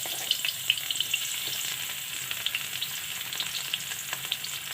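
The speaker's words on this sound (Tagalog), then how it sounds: "maglalagay na tayo ng ating bawang. Mainit na yung mantika natin." Garlic fries in hot oil, crackling in a dense, steady sizzle with small spitting pops and a few faint stirring scrapes, no one talking.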